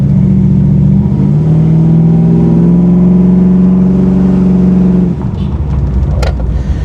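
A 500hp 1987 Chevy Monte Carlo SS idles loud and close at roughly 750–800 RPM, a deep steady rumble that drops off near the end, with a brief higher sound after.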